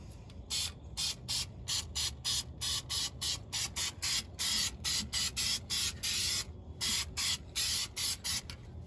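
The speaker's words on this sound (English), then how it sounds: "I'm spraying left-handed too, so it might not come out as good as I want it to come out." An aerosol spray can hisses in repeated short bursts while paint is sprayed onto a truck slack adjuster from a white GMC cab-over, the close pulses coming in a steady rhythm with brief pauses between them.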